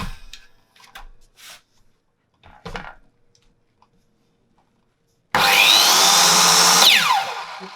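A Japanese hand saw cuts through a wooden joint piece, a few short taps and scrapes first, then a loud, steady burst of sawing strokes close up that fades at the end.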